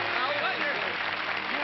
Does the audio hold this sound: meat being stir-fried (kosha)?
no